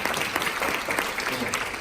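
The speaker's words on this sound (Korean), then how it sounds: "큰 박수 부탁드립니다" An audience claps steadily at a physical-education class showcase as a longboard teacher is introduced. The applause is a moderately loud, continuous patter from many hands.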